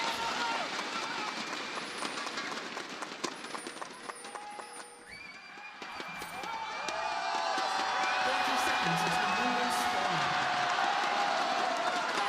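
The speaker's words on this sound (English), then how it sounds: "we hear the support from the fans in the crowd" Crowd of esports fans at the League of Legends MSI 2024 Play-In match between T1 and G2 in Chengdu cheers and roars, the noise swelling loud in the second half beneath a caster's commentary.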